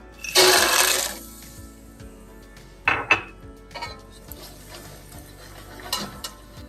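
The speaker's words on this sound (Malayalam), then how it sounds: "ചട്ടിക്കകത്ത് എണ്ണ ഒഴിച്ച് തിളച്ച് വന്നിട്ടുണ്ട് ഇനി നമുക്ക് കടല ഒന്ന് വറുത്തെടുക്കാം" Chickpeas tipped into hot oil in a pan while making Kerala mixture: a loud, close burst of sizzling that dies away within a second, then scattered clinks and scraping rattles from the pan.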